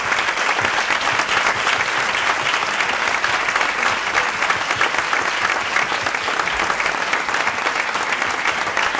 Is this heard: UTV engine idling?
no